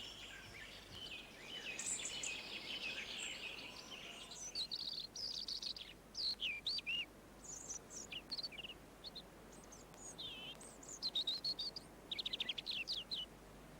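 A robin sings alone in short, varied, high warbling phrases separated by brief pauses, clear and fairly close over a soft background.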